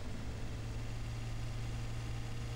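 A small tractor engine in the video game Farming Simulator 17 drones at a steady idle, a constant low hum with a rough rumbling texture, with no talk.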